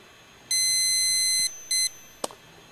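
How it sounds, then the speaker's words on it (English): Multimeter switched to continuity mode emits a loud, steady electronic beep of about one second, followed by a shorter second beep and a sharp click, with no talking. "we get a beep."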